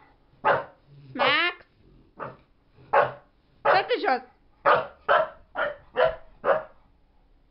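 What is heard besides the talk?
disobedient dog barking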